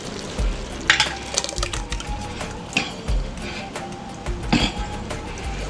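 Spoon stirring Prego spaghetti meat sauce with ground meat in a pot, giving wet scraping and thick squelching with several sharper clanks against the metal, irregular and close.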